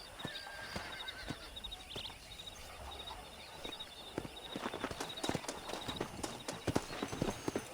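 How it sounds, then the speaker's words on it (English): Wild horses neigh and whinny at a distance in Red Dead Redemption while hooves pound in a scattered, quickening rhythm, with no voices. "That ranch hand said there's a pack of wild horses nearby."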